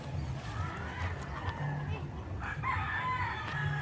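A rooster crows in a backyard farm with papaya and moringa trees, a clear call over steady outdoor noise, with a person talking nearby.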